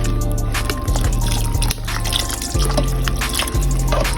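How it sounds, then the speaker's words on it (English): Water is poured slowly and steadily into a cooking pot for Southern-style cheddar grits, a continuous close splashing and trickling that stays loud throughout, with low gurgling as the pot fills. "I'm gonna slowly start putting the water in."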